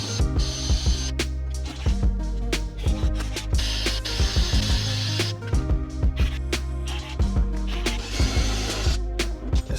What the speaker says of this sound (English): you literally can just use a snipper and cut right around